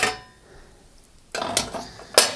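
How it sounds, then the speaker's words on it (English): The griddle cover and griddle reflector come off a Rangemaster cooker: a short metallic clank, a quiet pause, then a burst of close rattling metal clatter and another sharp knock near the end. "I need to remove the griddle cover, take out the griddle reflector"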